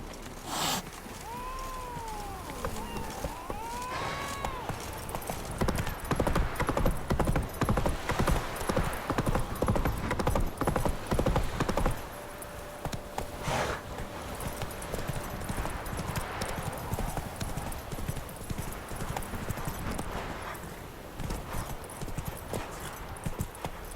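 Roach the horse from The Witcher 3 trots steadily, hooves clip-clopping in a continuous rhythm, with a brief whinny near the start and game ambience and music beneath.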